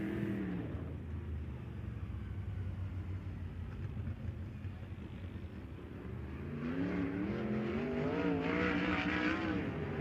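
A 410 sprint car blasts around Kern Raceway on a qualifying lap, its engine roaring and revving steadily, dipping briefly before surging louder and closer with rising pitch toward the end.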